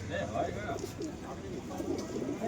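Pigeons coo softly and repeatedly amid a busy background of voices and bustle at Sarenga pigeon market, West Bengal, with a few brief sharper sounds.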